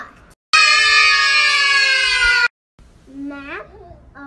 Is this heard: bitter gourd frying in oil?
no